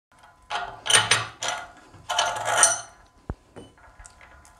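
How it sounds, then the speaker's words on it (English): A big wrench or spanner working a freewheel loose from an e-bike rear hub during a Bafang 750W motor swap on a Rad Power Bike, with close metallic clanks, ratcheting scrapes and a sharp click near the end. "with a big wrench or a spanner, you can now undo this"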